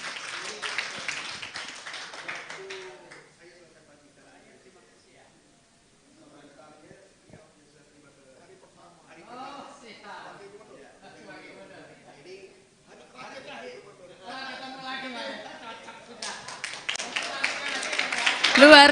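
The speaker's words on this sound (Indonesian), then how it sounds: "Beri tepuk tangan yang meriah" Audience applause at a live Indonesian talk show, broad clapping at the start swelling louder again near the end, with quieter stretches of murmur and some talk between.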